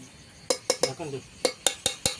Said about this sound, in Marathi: आता आपण झाकण मारून घेणार आहोत या चिकनवर.